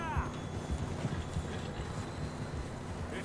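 Horse hooves clip-clopping in the Western video game Red Dead Redemption 2, a quick run of close, uneven thuds, with a brief whinny at the start and a player talking over it.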